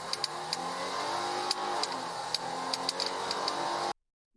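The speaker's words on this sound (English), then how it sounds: "Officer Dave speeds through this 25-mile-per-hour zone when the catastrophic happens" A police car speeding through a 25 mph zone, its engine roaring steadily and close for about four seconds with sharp ticking clicks on top, then cutting to silence.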